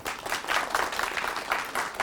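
Workshop participants clapping in a session hall: brisk, uneven applause from a modest group, individual claps audible in a fluttering rhythm, fairly close and steady for the whole stretch.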